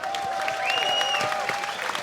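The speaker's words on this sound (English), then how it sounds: "You can get small applause." Light applause rises in a small live-stream studio, a soft patter of clapping with a bright, sweeping whistle-like tone gliding over it, steady and moderately close throughout.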